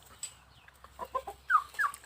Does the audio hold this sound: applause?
no